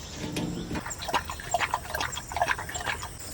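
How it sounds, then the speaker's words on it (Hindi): Drinking water poured out for a dog at a jungle campsite beside a tractor caravan, a soft trickling and splashing with faint rustles, fairly close and steady, with no talk. "हम मैक्स के लिए भाई पानी निकाल देते हैं।"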